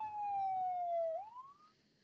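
A police siren wails in a single clear tone, holding a long falling pitch and then sweeping upward before trailing off, heard from a moderate distance.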